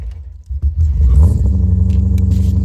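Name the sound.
BMW E30 with S62 engine running rough idle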